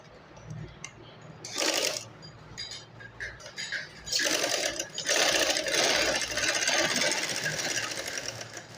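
A sewing machine stitches a seam on a belted shalwar in a couple of short bursts, then runs in a longer steady whir, with small handling noises between.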